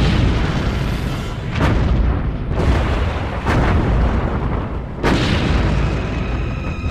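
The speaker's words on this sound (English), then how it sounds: "firing rapid broadsides from 16-inch and 5-inch guns" Rapid broadsides from a battleship's 16-inch and 5-inch guns in World of Warships, heavy booming blasts following one another every second or so, loud and close with rumbling sustain between shots.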